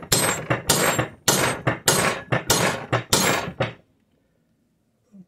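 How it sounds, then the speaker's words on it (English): Metal hammer blows ring out during an in-car transfer case rebuild on a 2011 Mercedes GLK 350 with a 722.9 4Matic drivetrain: about a dozen loud, close strikes in an uneven rhythm, then quiet. "I'm going to get a bigger hammer because bigger hammers are better."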